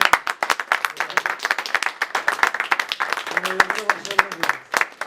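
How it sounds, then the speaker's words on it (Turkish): A small group claps for health care workers on a morale visit, the hand claps sharp and uneven close by, while a voice talks over them. "kardeşlerimizi, bütün çalışan personeli alkışlıyoruz biz arkadaşlarla birlikte."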